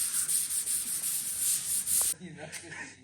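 Steady rhythmic rasping of sandpaper rubbed back and forth on a Nissan S14 car body, close and continuous for about two seconds, then stopping.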